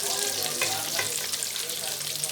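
Chicken pieces for a crunchy Zinger burger sizzle steadily in hot oil, a dense continuous crackle with a couple of brief louder pops, no talking.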